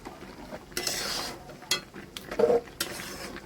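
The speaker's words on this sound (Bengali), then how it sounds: "ভালো করে মিশিয়ে নিই।" Spices being mixed by hand into mango pickle with lakuchi seeds, giving scraping, stirring and clinking sounds in a bowl or pan, close and uneven in bursts with pauses between.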